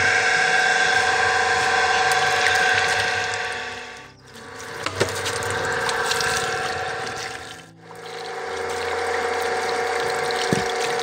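Water runs steadily from a pump into a bottle, a continuous rushing stream with two short dips as the flow is interrupted, with no talking.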